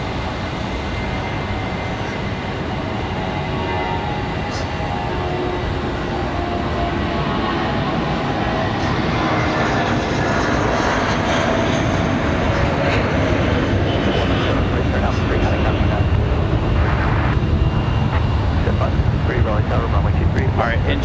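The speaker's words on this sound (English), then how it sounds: "Air France going to be our next arrival, that 777-200 from Paris." An Air France Boeing 777-200 from Paris arrives at Raleigh-Durham airport on a windy day, its jet engines roaring loudly and continuously with broadband wind noise; a voice speaks over it.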